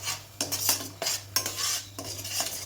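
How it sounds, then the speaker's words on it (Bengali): Spoon stirring salt through mashed pointed gourd and ridge gourd peel in a pan, a series of scraping, clinking strokes against the metal at a steady rhythm, close and fairly quiet, with no voices. "লবণটা দিয়ে ভালোভাবে মিশিয়ে নেব"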